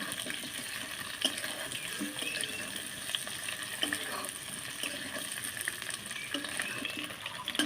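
Sliced pointed gourd and drumstick vegetables fry in hot oil with a continuous bright sizzle, dotted with occasional soft stirring clicks, and no voices are heard.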